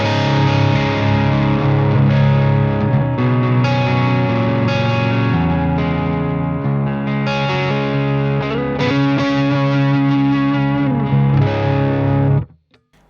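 Fender Ultra II Telecaster electric guitar on the neck pickup through distortion and chorus effects, playing a loud, continuous sustained chordal passage alone for about twelve seconds before cutting off.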